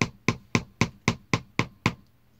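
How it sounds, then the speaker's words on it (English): Eight evenly spaced hammer taps drive a wooden block into an electric guitar body during a Floyd Rose tremolo install, each strike sharp and close with a short decay, heard alone without talk. "now I'm taking this block of wood and tapping it down using the hammer"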